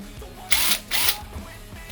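A Makita TD022D folding impact driver drives a 40 mm screw into pine in two short, loud bursts of whirring and rattling impacts, with a brief pause between them and faint quiet background before and after.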